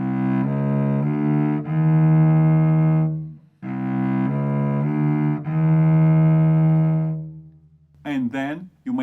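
A cello plays a chromatic scale étude by J. Merk, with short note groups repeated several times in sustained, legato bowing. A brief pause splits the phrases, and a voice starts talking at the very end.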